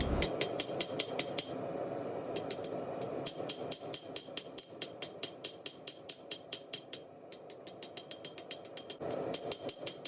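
Hammer blows ring out in rapid, evenly spaced runs on a wrench being forged into a knife, sharp metallic strikes close up, pausing briefly between series.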